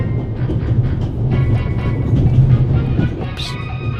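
A train runs steadily in the video game The Raven: Legacy of a Master Thief, a constant loud rumble of wheels and carriage noise with a few faint clicks and one brief higher clank near the end.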